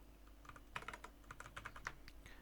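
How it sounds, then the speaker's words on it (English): Code is typed on a computer keyboard, a quick run of soft close clicks in small bursts, faint and even-paced with no other sound. "So if I type out love.graphics.line,"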